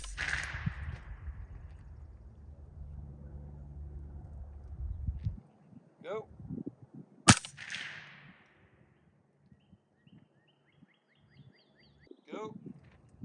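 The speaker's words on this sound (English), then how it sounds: "now we've got a delayed blowback, and we're going to use the Yankee Hill N2O on this one" Suppressed shots from a delayed blowback rifle fitted with a Yankee Hill N2O suppressor: a sharp, loud crack stands alone after a stretch of low rumble, followed by faint ringing and quieter metallic clicks.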